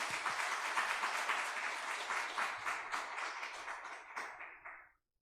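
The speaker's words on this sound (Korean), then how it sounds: "감사합니다. 박수하겠습니다." A church congregation applauding together, dense steady clapping from many hands that holds for several seconds before fading and stopping abruptly.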